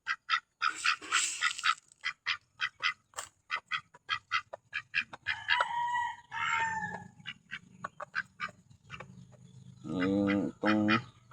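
Peking ducks at a farm give many short, rapid quacks in uneven runs, with some longer harsh calls among them, close and moderately loud, and no one speaks.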